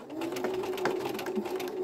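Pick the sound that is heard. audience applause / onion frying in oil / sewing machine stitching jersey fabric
sewing machine stitching jersey fabric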